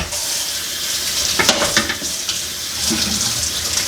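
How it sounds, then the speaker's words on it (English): A tap runs steadily while hands and a hair-locking tool are washed under the stream, a loud close hiss of water with irregular splashes and clatter from the hands and tool moving. "I'm going to wash my hands and the tool"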